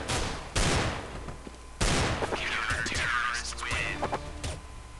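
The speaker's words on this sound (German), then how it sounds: "Ja, nochmal ein paar Mal schießen." Bursts of automatic gunfire in Counter-Strike: Global Offensive, two loud volleys followed by scattered shots and clattering game effects, with no talk.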